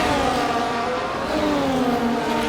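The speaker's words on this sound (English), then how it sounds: "That is one of the Haas, a back marker that we just passed by." A Haas Formula 1 car in the F1 24 racing game, heard during the Australian Grand Prix, with engine drone and shifting tonal harmonics sweeping steadily as it is passed. The sound is loud and continuous, with no talk.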